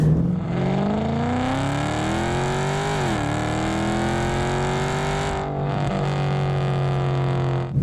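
Car with a 392 HEMI engine accelerating out of a U-turn onto a back road, its loud close engine note rising, easing briefly, then climbing again under steady throttle.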